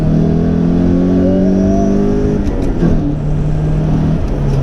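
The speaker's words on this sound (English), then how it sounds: "You can sort of drop it down again and rev it in," A modified first-generation Toyota MR2 engine revs up and settles back while the driver downshifts, heard loud from inside the car with rising and falling engine tones.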